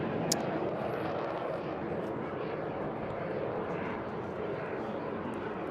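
A display aircraft with manual controls performing graceful manoeuvres at the Eastbourne International Airshow, its engine a steady broad roar held at moderate distance throughout.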